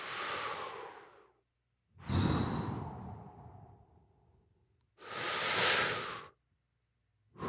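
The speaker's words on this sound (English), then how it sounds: "how we're making the robot breathing now?" Breathy robot breathing effect, three long airy hissing exhalations with pauses between, close and fairly loud with no talk over it.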